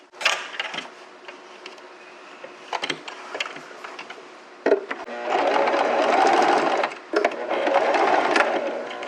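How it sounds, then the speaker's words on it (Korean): A sewing machine stitches a sleeveless summer dress, starting with short, stop-start bursts of clicking and then running in two longer, steady whirring runs, close and clear with no talk. "이렇게 하신 다음에 목점을 먼저 박으세요"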